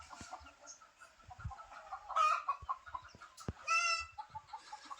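Chickens on a farm, kept together with sheep, cluck and squawk nearby in short bursts, with a couple of louder calls over a quiet background.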